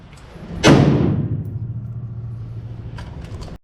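A single loud rifle shot in a failure-to-stop drill at an outdoor rifle class, a sharp crack followed by a long low rolling echo that decays slowly, with a faint second sound near the end.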